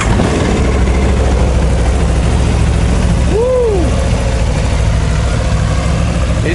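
A 2019 Aprilia RSV4 1100 Factory sport bike with its road-legal exhaust idles steadily, a loud close low engine burble running throughout.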